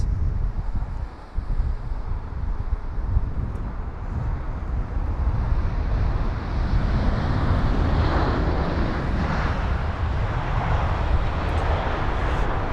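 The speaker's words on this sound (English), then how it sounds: "there's the LATAM Airlines 7878 Dreamliner" A LATAM Airlines Boeing 787 Dreamliner arrives at windy Heathrow, a steady jet engine rumble that swells gradually, with some wind buffeting and no voices.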